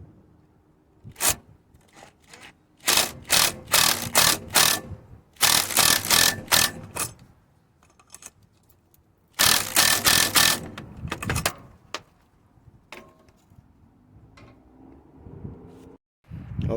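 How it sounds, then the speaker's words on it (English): An intake hose is worked loose from the turbo on a Detroit 60 Series engine in a Freightliner, with bursts of close ratcheting and mechanical clicking in rhythmic runs, separated by quieter gaps with some speech. "start by removing this intake hose going into the turbo"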